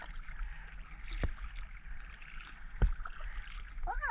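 A kayak paddle dips and splashes through the water at Shell Key Preserve, with soft strokes, two sharper knocks and the water lapping gently close by.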